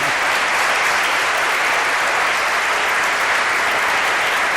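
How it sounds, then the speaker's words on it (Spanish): Steady, dense applause from a studio audience in Mieres greeting a prize-winning author, a loud continuous wash of many hands clapping with no talk over it. "Os pido un aplauso para él, ha ganado un premio."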